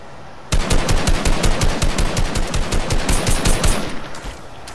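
Sustained rapid machine-gun fire in a first-person video game, loud and close, a steady rattling burst running for several seconds with no talk over it.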